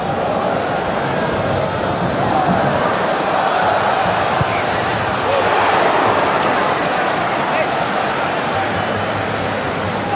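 Football stadium crowd roaring after a rabona cross by Bruno Fernandes, a loud, sustained wash of massed voices with a swell in the middle, and a commentator talking over it.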